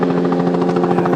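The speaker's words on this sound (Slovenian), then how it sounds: "Helikopter še vedno išče," Police helicopter circling over an area in Slovenia, its steady rotor drone loud and continuous with a rapid pulsing beat throughout.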